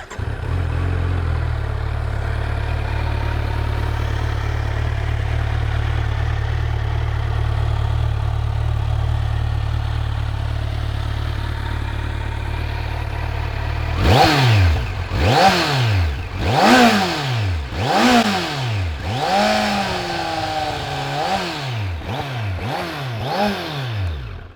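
A 2020 Kawasaki Z900 motorcycle engine starts and settles into a steady idle, then blips through a rapid series of loud, sharp revs up to around 6,000 RPM, each rising and falling back to idle.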